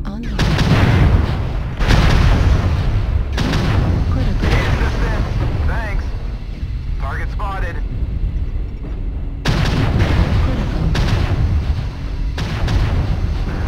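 Loud, heavy artillery strike explosions in a video game, rumbling booms rolling in repeated waves close by, with brief quieter gaps between blasts and a voice talking over them.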